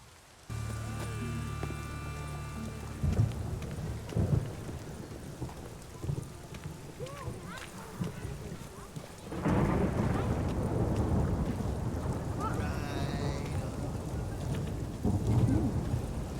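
A thunderstorm in The Witcher 3 video game: rain hisses steadily throughout while deep thunder rolls and rumbles in long swells, with occasional game sound effects layered over the storm.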